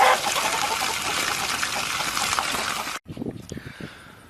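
Water gushes loudly and steadily from a newly connected barn water line for about three seconds, then cuts off abruptly, leaving quieter dribbles and faint background sounds.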